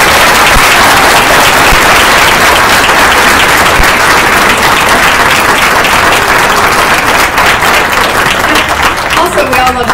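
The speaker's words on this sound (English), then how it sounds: "a final round of applause for Jaleesa" Loud, sustained applause from an audience at a UW Tacoma community talk, dense clapping filling the whole stretch with steady intensity and some voices mixed in beneath.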